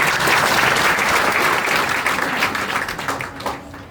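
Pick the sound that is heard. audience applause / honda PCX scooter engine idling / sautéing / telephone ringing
audience applause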